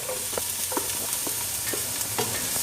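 Tomato hits a hot pan of ginger-garlic paste for egg bread chilli, frying with a steady, close sizzle while a spoon scrapes and stirs in irregular soft knocks, with no talking.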